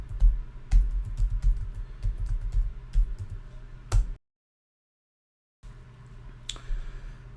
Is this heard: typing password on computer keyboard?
yes